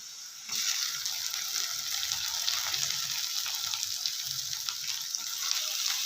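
Chopped tomatoes drop into hot oil with peanuts for sabudana khichdi, and a steady, loud sizzle starts at once and carries on evenly and up close, with faint stirring underneath.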